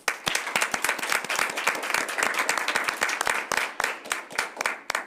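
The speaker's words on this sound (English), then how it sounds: "So a round of applause." At a school board meeting, an audience applauds students being honored. Dense, lively clapping with many sharp individual claps is heard close and clear for about five seconds, with no talk over it.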